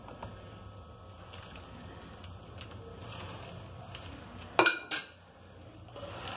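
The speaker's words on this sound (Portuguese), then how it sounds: "Eu misturo bem esses temperos aqui." Seasonings of homemade salt blend, cayenne, saffron and chili flakes being mixed in a bowl, a soft continuous rustle and scrape with a couple of sharper clinks of a utensil against the bowl near the end.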